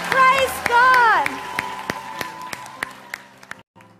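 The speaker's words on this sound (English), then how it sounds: "Give Jesus a big clap." Children's audience at a Hillsong Kids church worship event gives a round of clapping, sharp separate claps thinning out over several seconds after a voice calls out over them.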